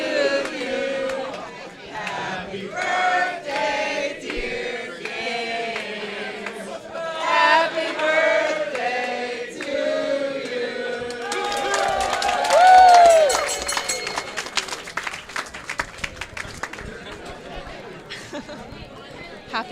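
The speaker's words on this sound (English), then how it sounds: "Gaines just got a rousing chorus of happy birthday." A crowd at a curling bonspiel sings together in a loose, rising chorus with shouts and chatter, then breaks into a burst of clapping and cheering that fades into scattered applause.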